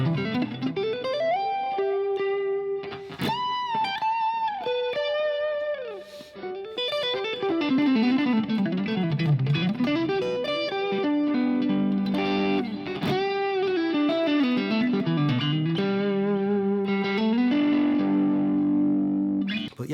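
Electric guitar on the neck pickup through a Fractal FM3 modelling a Dumble Ford ODS-100 amp, playing expressive bends and sustained melodic lines with chords, loud and continuous.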